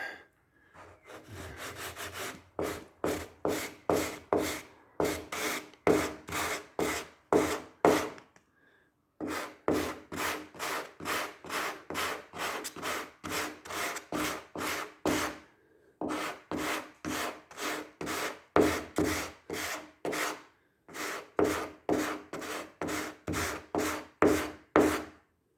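Sanding block rubbing a run out of a final primer coat on a VW Beetle trailer, rapid rhythmic back-and-forth strokes in four bursts separated by short pauses, close and alone.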